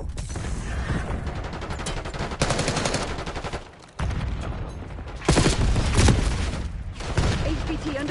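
Rapid gunfire crackles in a Call of Duty Black Ops 6 multiplayer match on the Babylon map, loud bursts and sustained automatic fire with brief pauses, mixed with other battle noise and voices.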